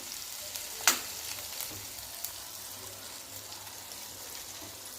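Butter sizzling in a pan while cooking methi matar malai, a soft steady crackle with one sharp clatter near the start and a few light knocks, no talking.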